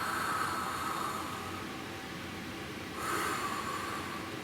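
Slow oceanic breathing through the mouth, a soft airy rush that fills the clip, easing back briefly and then swelling again for a second breath, close and steady with no talking.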